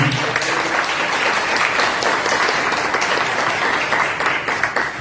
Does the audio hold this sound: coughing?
no